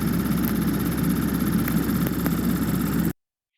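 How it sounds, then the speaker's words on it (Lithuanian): A 2016 Porsche Macan S engine idles smoothly at close range, a steady, even low rumble that holds for about three seconds before cutting abruptly to silence. "Variklis dirba gražiai."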